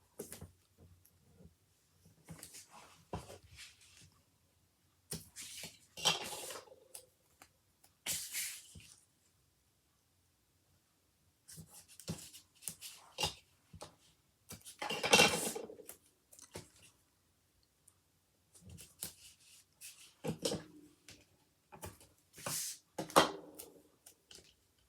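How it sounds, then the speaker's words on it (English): Adhesive tape is pulled and pressed onto the inside of a 5x7 paper folio, all four sides in turn: intermittent crisp tearing and rubbing bursts separated by quiet pauses, close and moderately loud. "I'm going to apply tape to all 4 sides"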